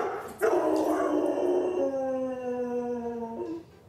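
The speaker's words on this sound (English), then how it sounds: "he always howls when the local supper hour news comes on" A yellow Labrador howls at the local supper-hour TV news in a long, rising and falling canine wail. The howl is close and loud and breaks briefly into whimpering yips, with no talking over it.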